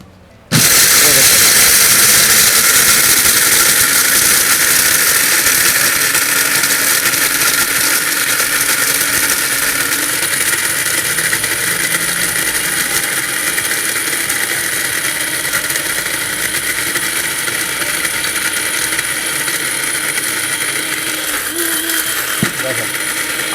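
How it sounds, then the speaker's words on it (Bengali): A small electric mini grinder grinding gram flour (besan), switching on abruptly and then running as a loud, close, continuous whirring grind without pause to the end. "আমরা এই ছোট্ট মিনি গ্রাইন্ডারে কিন্তু বেসনও করতেছি"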